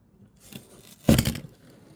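Scissors snipping string tied around garden tools, a short faint rustle followed by one crisp, close cutting snip and brief scrape.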